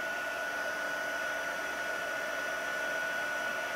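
A heat embossing tool blows a steady, even whoosh of hot air while melting embossing powder on a stamped card, continuous and fairly close with no talk over it.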